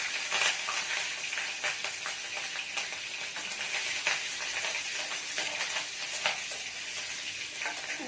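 Slit green chillies and nigella seeds fry in hot oil for a Bengali katla fish curry, making a continuous close sizzle broken by scattered crackles and the clink of a stirring utensil against the pan.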